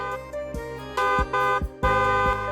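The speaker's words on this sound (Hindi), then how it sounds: "कौन हॉर्न बजा रहा है?" Several loud, sustained car horn honks in bursts, each blast lasting around half a second, close by with no talking.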